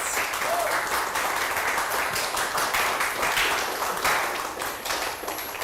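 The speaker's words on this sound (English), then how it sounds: "a round of applause to all of the winners today, tonight" Sustained audience applause for award winners at an educator awards ceremony, a steady dense wash of many hands clapping throughout, fairly loud and continuous with a slight dip near the end.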